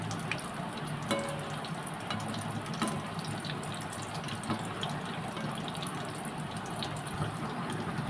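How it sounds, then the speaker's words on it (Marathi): Cheese corn balls frying in hot oil, a soft steady bubbling hiss with scattered faint crackles and pops, quiet and continuous with no talking. "असे मी पटापट फ्राय करून घेते"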